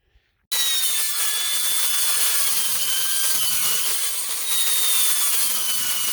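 A power saw cuts 8-inch cement board during earth berm house construction, starting abruptly after a short silence and holding a loud, harsh, steady grinding whine up close for the rest of the clip.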